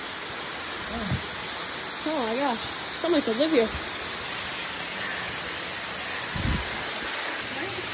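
A North Carolina waterfall rushing steadily as a constant broadband hiss, moderately loud and unbroken, while a person speaks briefly over it.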